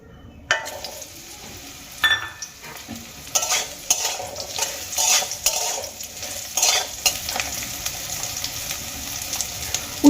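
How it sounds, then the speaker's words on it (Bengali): Pieces of bitter gourd frying in oil for shukto, a close sizzle broken by repeated scraping stirs of a spatula in the pan, loud and irregular with no talking. "এবার এই তেলের মধ্যে আমি বেশ কিছুটা টুকরো করে নেওয়া করলা বা উচ্ছে ভেজে নেবো"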